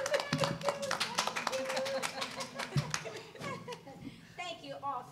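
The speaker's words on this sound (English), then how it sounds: "Applause for Patricia" Scattered clapping from a small panel audience at a writers' event in Nashville, with voices chatting and laughing over and around the uneven claps throughout.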